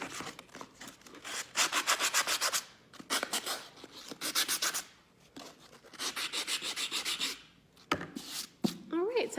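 Close, loud bursts of rubbing and scraping as a stack of craft books is distressed, strokes coming in quick rhythmic runs with short pauses between, alone without talk.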